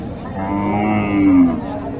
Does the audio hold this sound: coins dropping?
no